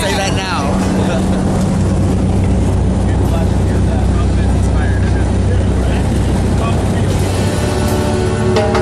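Loud, steady engine drone fills the cabin of a small skydiving plane before a tandem jump, a constant roar throughout with voices talking over it.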